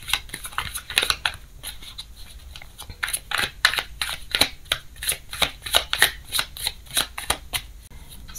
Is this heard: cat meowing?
no